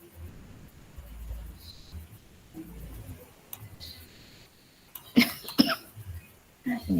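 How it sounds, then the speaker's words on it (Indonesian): A couple of sharp coughs break out near the end, close and fairly loud, against a quiet room with faint ticking, during an online meeting. "ini juga batuk"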